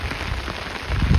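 Heavy rain pours over a mountainside near waterfalls, a dense steady hiss of drops hitting the ground with low rumbling swells. The downpour is close and continuous, with no talking.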